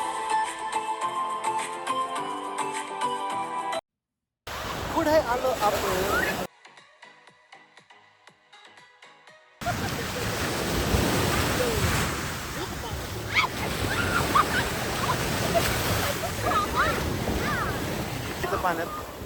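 Ocean waves wash onto a beach in Miami, Florida, as a steady, broad rush of surf mixed with wind noise, heard after a brief stretch of music and a quiet gap.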